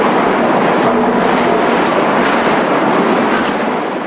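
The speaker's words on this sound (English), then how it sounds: "When the wagon is empty, the next one pushes it out, and it runs down a small gradient onto a newly formed rake of empties" An empty rail wagon rolls down a small gradient at a Chinese cement works, giving a loud, steady rumble and rattle of wheels on track for a few seconds.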